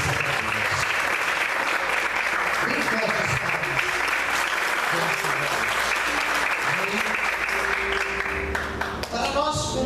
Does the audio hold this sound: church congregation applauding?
yes